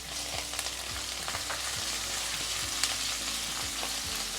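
Curry leaves, ginger shreds and green chillies crackle and sizzle steadily in hot oil while a spoon scrapes and stirs the pan, with short spatters popping over the continuous hiss; no one speaks.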